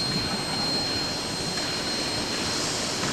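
Diesel locomotives No. 9 and No. 10 of a tourist railway pull their train at Shedden, Ontario during the Rosy Rhubarb Festival, giving a steady, even engine rumble with a faint high whine and no voices.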